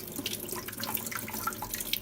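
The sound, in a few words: water running from a tap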